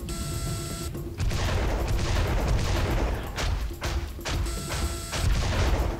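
The Devastator weapon firing in Serious Sam 3, with loud, dense blasts and crashing impacts that fill most of the clip, breaking briefly between volleys over a constant background hum.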